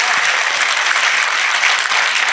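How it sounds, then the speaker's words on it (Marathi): Dense, steady applause fills a lecture hall as an audience claps for a poetry reading and talk in a lecture series, loud and continuous from start to finish with no break. "जोरदार टाळ्या एकदा आजीसाठी वाजवा"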